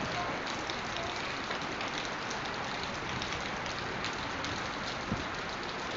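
Heavy rain pours down in Miami, a dense, loud, unbroken roar of water hitting surfaces with no voices over it.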